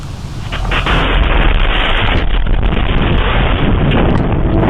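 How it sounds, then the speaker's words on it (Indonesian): A rocket strikes a residential neighborhood in Kiryat Shmona, northern Israel, captured on CCTV. After a moment of quieter ambience, a loud, deep explosive roar erupts and rumbles on continuously, heavy and distorted, with no voices. "Sebuah roket menghantam permukiman di Kiryat Shmona, distrik utara wilayah pendudukan Israel. Serangan ini memicu ledakan besar dan kebakaran."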